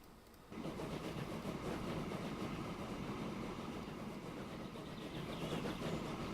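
A slow freight train hauling iron ore or coal in gondola wagons rumbles along in the Transport Fever simulation game, a dense steady roar that kicks in abruptly after a quieter start and holds without talk.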